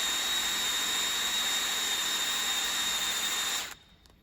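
A drill boring holes into a VW/SEAT/Skoda 02M/02Q gearbox part while fitting a Quaife limited-slip differential: a steady, loud, high whining drone running without a break, then cutting off abruptly near the end.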